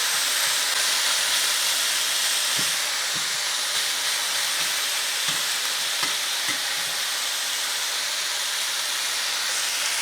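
Zucchini frying in a hot pan makes a loud, dense, continuous sizzle with a few soft knocks from stirring underneath, close by and without speech.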